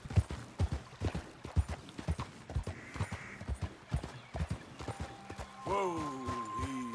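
Horse hooves clip-clop in a steady walking rhythm in the video game Red Dead Redemption 2, fairly close, followed by a short whinny near the end.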